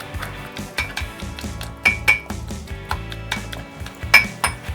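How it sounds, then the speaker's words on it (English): Pear pieces are pressed and mashed into pulp in a bowl, a run of soft, irregular clinks and thuds of a utensil against the dish, close and fairly quiet, with no talking. "I'm gonna get these little pear pieces so that I can smash this up and get all the juicy goodness out of it"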